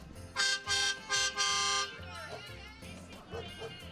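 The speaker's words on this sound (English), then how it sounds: "It seems like every time they talked, the horn beeped." Vehicle horn beeping in four loud, sustained blasts during a downtown Santaland holiday parade, followed by crowd noise and people talking in the background.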